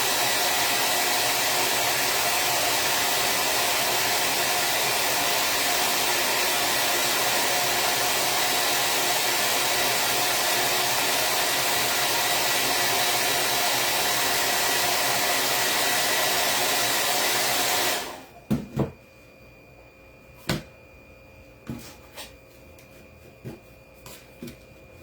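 Blow dryer heating stuck material on a patriotic vintage truck craft project, a loud steady whooshing roar for about eighteen seconds, then cut off, followed by a few faint handling clicks and taps.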